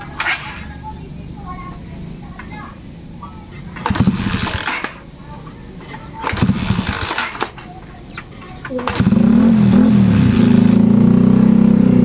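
A motorcycle fitted with an SC Project pipe and silencer, with an inline-four tone, revs in three loud bursts, the last held longest, between stretches of idle and casual conversation.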